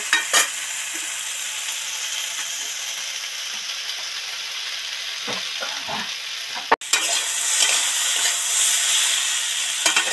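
Ridge gourd and poppy seed curry sizzles and is stirred in a pan on a gas stove. After a sharp break, water goes in and a brighter, louder hiss follows. No voices.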